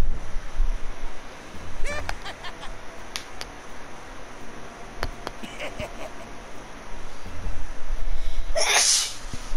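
A single sharp sneeze bursts out near the end, close and loud, following quiet video-game background noise with scattered clicks.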